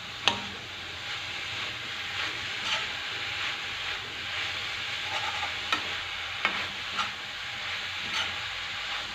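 Fenugreek leaves fry in a pan over a high flame, giving a steady close sizzle and hiss broken by occasional scrapes and taps as they are stirred.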